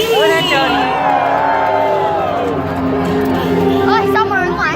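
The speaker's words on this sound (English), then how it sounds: "Let me hear you scream for King Kong 363D!" A large crowd of tour riders screams and whoops loudly and continuously for King Kong on the Universal Studios tour, a dense wash of cheering voices close by.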